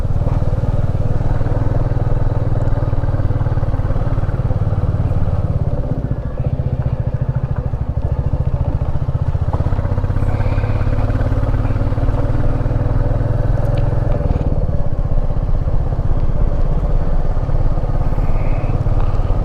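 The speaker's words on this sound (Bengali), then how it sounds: "প্রায় 10 ঘন্টা আমরা বাইক চালাচ্ছি।" A motorcycle rides along a dusty mountain road in Himachal with a steady, loud engine drone and rumbling wind noise that stays constant throughout, with no talking.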